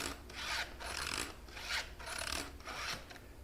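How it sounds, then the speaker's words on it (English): Hand filing of a vintage Homelite Super XL chainsaw's cutting teeth with a STIHL 2-in-1 sharpener: five steady, evenly spaced rasping strokes of metal on metal, close and fairly quiet, with no talk. "Got a good rhythm going here. We're just sharpening these teeth."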